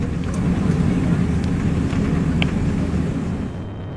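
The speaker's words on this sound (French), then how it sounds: "au moment où les trains d'atterrissage quittent le sol, où notre avion s'arrache à la gravité terrestre" A steady, loud engine roar rumbles continuously, like a jet heard from inside the cabin during takeoff, with faint rattles over the droning noise.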